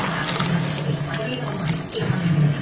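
Water is poured into a pan of galunggong fish adobo already seasoned with soy sauce, vinegar, a little sugar, whole peppercorns and bay leaves, making a steady rushing splash with a low voice faintly beneath.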